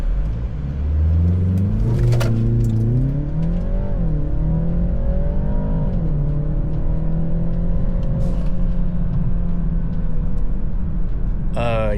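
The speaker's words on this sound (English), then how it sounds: "We're just gonna do a 0 to 60." A BMW 330i fitted with a JB+ tuning module launches from 0 to 60 with traction control off, the engine revving loud and close, climbing through several gear shifts.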